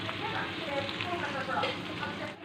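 Steady hissing sizzle of fish pieces frying in hot mustard oil, close and continuous throughout.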